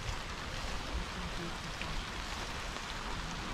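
Steady rain during a mountain thunderstorm on Ostvytsia in July, a continuous broadband hiss of drops close by, unchanging and fairly soft, with no voices.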